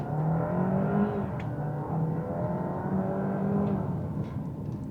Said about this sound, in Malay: Ha, itu bunyi yang dihasilkan oleh enjin ni lah.